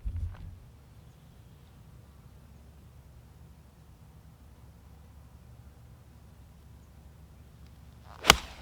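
A 7-iron tee shot on a par-3 golf hole in Wyoming with a light breeze: a single sharp club strike near the end, preceded by quiet outdoor ambience and a soft thud at the start.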